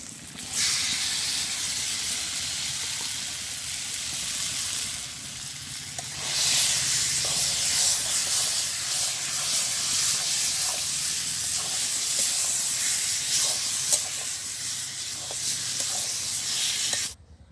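Taro hits a pan of fried onion, garlic and turmeric with a sharp burst of steamy hissing that surges again midway and holds as a steady, loud sizzle until it cuts off.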